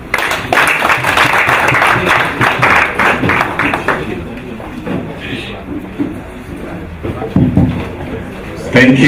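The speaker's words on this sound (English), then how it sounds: "Can we put our hands together again and clap for Martin?" Audience applause and clapping at a farewell party for a regional police commander, a dense burst of many hands in the first few seconds that thins out, with a voice talking through the quieter stretch and a brief renewed burst near the end.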